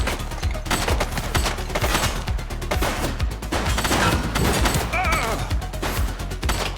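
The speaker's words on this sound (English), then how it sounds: "Shots fired! Friendly fire!" Rapid gunfire from a shootout in the police video game The Precinct, dense bursts of shots crackling steadily and loudly throughout, with shouting voices mixed in underneath.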